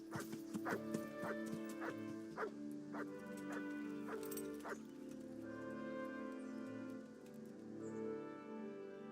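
Dog barking in the video game Kingdom Come: Deliverance, a series of sharp close barks and yips in the first half over sustained musical tones, trailing into whimpering.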